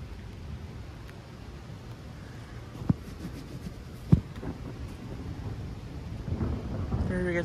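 Thunder from a thunderstorm rumbles continuously, with two sharp cracks standing out before the rumble swells again, rain hiss faintly underneath, no talking.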